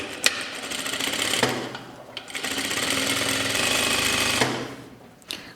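A sewing machine stitches close along the pressed fold of a shirt placket, two sustained runs of rapid needle chatter separated by a brief pause, with clicks at the start and end, no speech.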